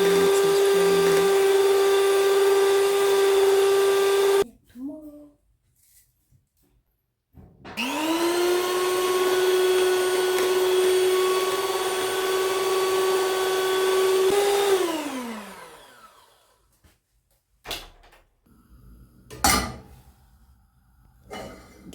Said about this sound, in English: use a hand mixer to make sure everything mixes very well.